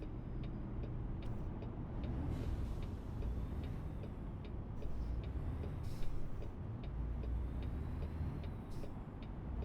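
Steady low engine rumble from inside a moving truck cab, with faint rhythmic ticking over the continuous drone and no talking.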